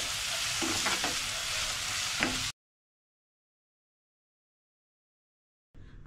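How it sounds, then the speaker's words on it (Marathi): Finely chopped onion frying in a pan for egg lababdar gravy, a steady broadband sizzle with a few stirring scrapes for about two and a half seconds, then silence before the sizzle briefly returns at the end. "कांदा इथे बारीक चिरून घ्यायचा आहे। कांदा आपल्याला मऊ होईपर्यंत"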